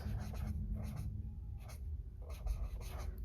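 Pen or pencil scratching steadily on paper in a reading journal, close and quiet, in repeated short strokes with brief pauses between letters.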